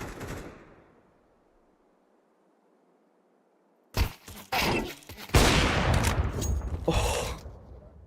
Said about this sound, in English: Shots down range against the pistols.